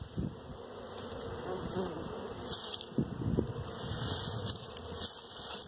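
Honey bees buzz around an open hive during a hive inspection, a dense, steady drone close to the microphone, with a few handling knocks and rustles underneath.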